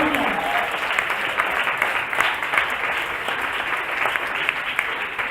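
A congregation at a church theology class applauds, a dense, steady wash of clapping from many hands that holds evenly at moderate loudness for several seconds.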